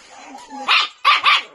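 Dogs waiting to be fed at a stray-dog shelter give three sharp, loud barks close by, the last two in quick succession.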